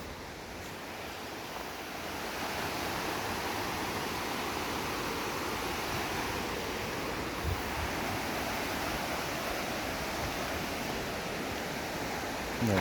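The Kaslo River flows beside a trail with a steady, broadband rushing wash that stays constant and fairly loud, with no voices.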